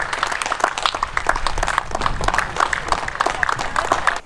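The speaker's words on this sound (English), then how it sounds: "We also go out on a Thursday and clap for the NHS, for the key workers" Many people clapping outdoors in a street to thank the NHS and key workers, dense uneven applause carrying on steadily from scattered households.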